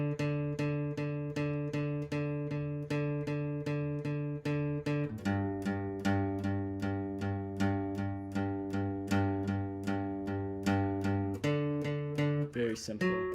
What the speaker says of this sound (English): So this is the bass line.